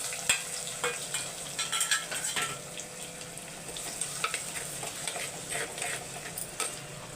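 Whole spices, green chillies, curry leaves and small shallots frying in oil for village-style mutton curry, a dense crackling sizzle with scattered pops and clinks of stirring, close and steady, no voices.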